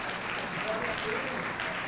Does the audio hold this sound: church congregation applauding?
yes